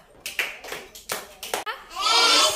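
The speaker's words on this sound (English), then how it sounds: "Very good. Claps." Several distinct hand claps from children playing a classroom body-parts game, spaced irregularly and close, followed by a louder burst of clapping and excited young voices.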